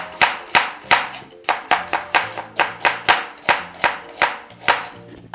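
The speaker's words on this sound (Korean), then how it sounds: "자, 이제 양파를 썰고" A knife cuts through onion into thin strips for japchae, the blade knocking on a cutting board in a quick, steady rhythm of about a dozen crisp chops, close and clear.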